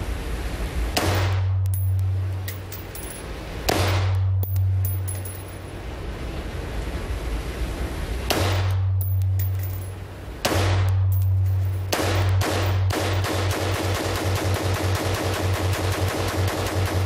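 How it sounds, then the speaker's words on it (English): Rapid bursts of automatic gunfire at a shooting range, loud and close, in several separate strings of shots with short pauses, the last burst long and continuous. "And then go ahead and shoot."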